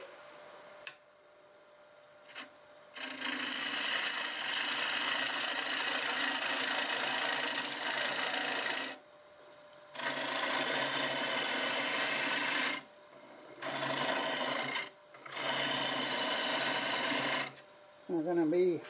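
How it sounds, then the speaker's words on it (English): A half-inch bowl gouge cuts hard oak spinning on a wood lathe, giving bursts of loud raspy scraping separated by short pauses while a faint motor whine continues beneath. "I'm going to use the 1/2 inch bowl gouge."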